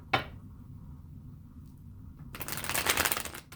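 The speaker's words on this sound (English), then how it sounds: "Spirit is saying 2 more shuffles after this" A tarot card deck is shuffled close by, starting with a single sharp snap, then a quiet pause before a dense riffling burst of cards that rises and stops abruptly.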